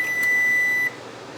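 A kitchen oven timer gives a steady electronic beep lasting under a second, loud and alone, then stops, leaving faint room hum.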